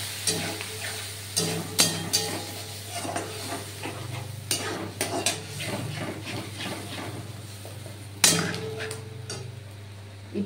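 Spice paste mixed with water is stirred into fish kalia frying in a pan, giving a steady sizzle with repeated scraping strokes of a spoon against the pan, close and alone without talk.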